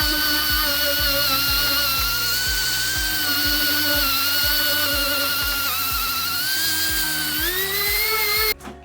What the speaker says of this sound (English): Our DA sander, we can evenly go over all the surfaces